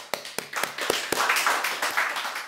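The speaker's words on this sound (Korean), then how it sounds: "우리 그 남부엘 권사님께서 나오실 때 박수로서 은혜로운 시간을 갖도록 하겠습니다" Scattered hand claps build into brief applause from a small church group, a few sharp claps at first, then quicker overlapping clapping.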